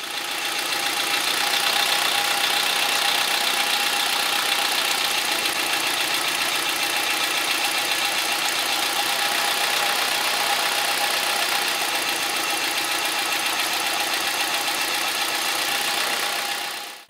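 A car engine idles steadily with a faint knocking roughness while a fuel injector is disconnected and reconnected; the mid-pitched hum stays close and continuous throughout, with no talking.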